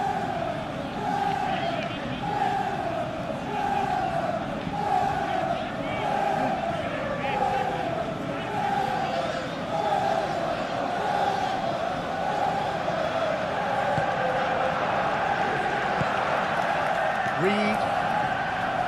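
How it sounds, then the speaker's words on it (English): Stadium crowd noise from a PES 21 football video game match, Liverpool against Fulham in the Premier League: a loud, steady roar with rhythmic rising chants running through the whole stretch, with no talk over it. "Maybe the crowd will stay a little quieter next time."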